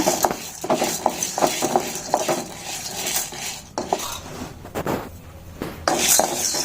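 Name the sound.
dry roasting chana dal in a pan without oil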